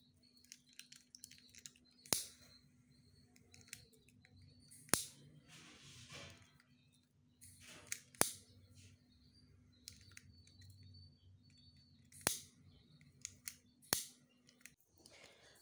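Scissors snip through a single layer of lace for a handmade baby frock, several sharp separate cuts spaced a few seconds apart over a low steady hum, close and alone with no talk.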